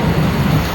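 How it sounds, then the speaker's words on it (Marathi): A train runs along the line near Kasara, a loud, steady low rumble with droning wheel and carriage noise, close by. "ट्रेन चाललं बघा"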